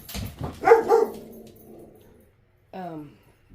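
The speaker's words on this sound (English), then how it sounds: "Sorry for the dogs." Indoor dogs bark and whimper in a short close burst, then after a pause a single drawn-out whine rises and falls; a voice is faintly mixed in.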